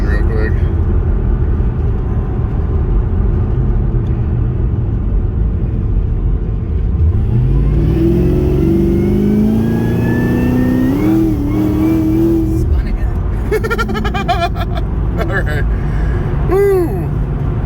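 A car on street tires accelerates hard, its engine rumbling low at first, then climbing through rising revs with a gear change and a brief wheelspin-like whine near the end, loud and close inside the cabin while a person talks over it.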